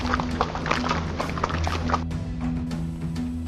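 Hooves of a horse carrying a rider clatter in a steady, busy rhythm, moderately loud over a constant low background hum, with no talk on top.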